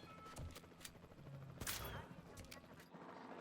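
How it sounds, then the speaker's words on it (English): Gunshots in a Jurassic World video game aimed at a Stegosaurus, a few sharp bursts cracking over a dense game soundscape, with one louder blast standing out near the middle. "Okay, we shot him twice."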